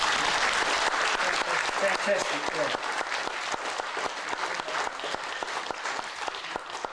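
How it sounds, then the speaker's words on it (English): Crowd applause at a Cornish community gathering in Toronto, honouring sailors who replicated a 154-year-old voyage, a broad continuous clatter of many hands, moderately distant, with a voice speaking briefly over it. "a bit of a clap here might come in."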